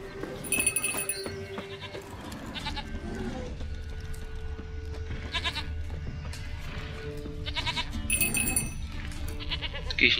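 In The Witcher 3, a goat bleats again and again, nearby and fairly loud, its quavering cries recurring over rustling ambient game sound with a few faint bell-like tones.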